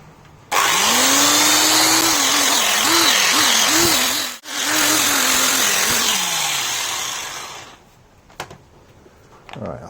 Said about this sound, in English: I think that angle grinder's on its way out.